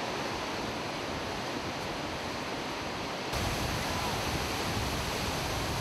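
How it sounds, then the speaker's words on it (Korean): Kjosfossen, a 93 m waterfall in Norway beside the Flåm railway, roars as a steady broadband rush of falling water, heard close and continuous without pause. "기차는 카오스포스 폭포라는 곳에서 잠시 멈춘다."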